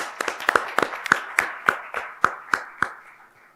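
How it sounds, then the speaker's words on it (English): About a dozen separate hand claps ring out at a conference, evenly spaced and fairly distinct, fading toward the end in a reverberant hall. "all of these medical heroes that required one round of applause"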